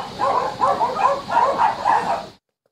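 Many dogs bark and yelp in repeated overlapping bursts at a crowded dog breeding facility, a loud continuous chorus that stops abruptly near the end.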